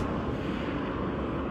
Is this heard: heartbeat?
no